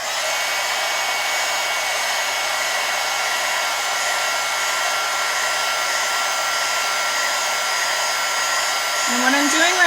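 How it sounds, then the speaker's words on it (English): Heat gun blowing over a mixed media craft project, a loud, steady close-up whoosh of hot air that holds unchanged throughout, with a faint brief squeak near the end. "Now is the time for the heat gun. Be a little bit loud."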